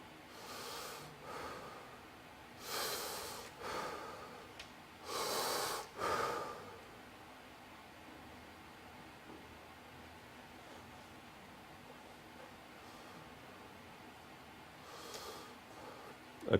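A person vocally imitates Cheyne-Stokes breathing, with a series of breaths that swell in loudness and then fade into a long quiet pause before faint breathing resumes.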